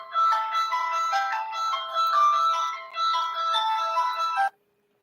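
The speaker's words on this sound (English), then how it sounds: "It's my stupid ringtone." A melodic electronic phone ringtone plays loud and close in a bright repeating tune, pausing briefly near the middle before resuming and then cutting off abruptly; no one talks over it.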